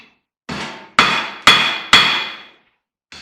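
A hammer strikes epoxy-covered copper on an anvil, with four loud ringing metallic whacks in quick succession, each decaying briefly, then the start of a fifth blow.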